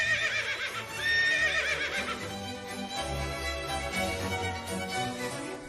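A carriage horse neighs in a long, loud whinny as the carriage pulls up and stops, continuing for several seconds with a busy, layered backdrop.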